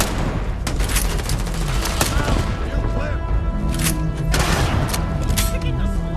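Gunfire erupts in the sci-fi video game Starfield as a rapid, loud fusillade of shots and booms that runs the whole time, with shouting voices mixed into the battle.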